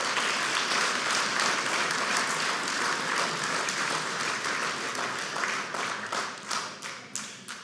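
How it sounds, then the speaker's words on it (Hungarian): Audience at a Hungarian farmers' remembrance day celebration in Alsónémedi applauds the farmers, dense sustained clapping that thins out into scattered individual claps at the end. "Egy tapsot nekik!"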